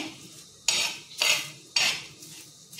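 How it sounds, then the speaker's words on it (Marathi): Okra being pan-roasted for Marathi bhendi bhaji is stirred with a metal spatula, giving three loud scraping clatters against the pan about half a second apart over a quiet background with no talk. "आपले भेंडे भाजतात आता।"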